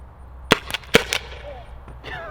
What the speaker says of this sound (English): Now the CO2 cartridge that's actually in here, we've already shot like 3 mags with it.